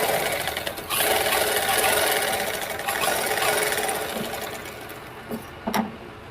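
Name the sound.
sewing machine stitching a blouse lining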